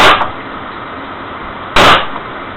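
Two sharp, loud pistol shots at a firing range a couple of seconds apart, each with a brief echoing tail over steady background noise.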